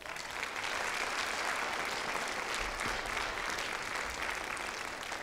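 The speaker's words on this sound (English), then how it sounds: "Can I get another round of applause for Glenn?" Steady, dense applause from an audience at a Black History oratorical competition, a continuous wash of many hands clapping at even loudness from start to finish, with no voices over it.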